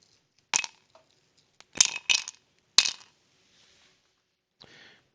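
A few ice cubes clatter into a glass before a whiskey drink, four or five sharp, close clinks in quick bursts, followed by a faint hiss at the end, with no talking.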